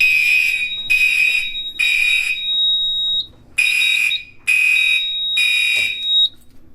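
Silent Knight 5820XL fire alarm panel sounding during a beam detector test: six loud, shrill electronic alarm bursts in a steady on-off pattern, each about half a second long, with nothing else heard between them.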